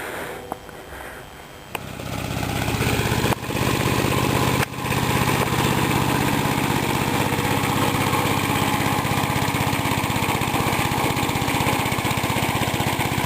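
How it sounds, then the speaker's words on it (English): An old Gravely two-wheel garden tractor's small engine starts up and settles into a loud, steady, close-by chugging run, with a few brief dips early on. "here's Jordan driving the old Gravely"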